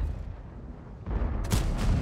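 A tank cannon shot in a tank video game featuring the BC 25t, with a sudden broadband blast rising out of rumbling engine noise, followed by a second sharp burst and a sustained roar.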